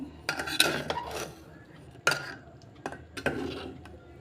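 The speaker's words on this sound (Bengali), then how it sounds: "এবার কুকারটা খুলছি খুলে দেখাচ্ছি কীরকম সিদ্ধ হয়েছে" A pressure cooker lid being opened after cooking lentils for tarka: a few sharp metallic clanks and scrapes, close and fairly loud, spaced out over a few seconds against a quiet kitchen background.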